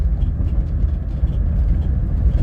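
An Euler Storm EV T1250 electric vehicle drives in Thunder mode, heard as a steady low road rumble and drive hum from inside the vehicle, with no speech.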